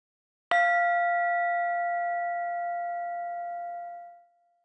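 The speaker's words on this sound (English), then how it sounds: "Now I'll ring the bell in a moment" A meditation bell is struck once, giving a clear bright ring with a steady pure tone that slowly fades over about four seconds into silence.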